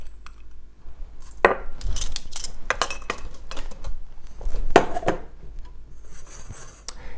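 Coriander and cumin seeds tip into a dry pan, scattering with light rattling, ticking clicks and a few sharper metallic taps, close and moderately loud with no talking.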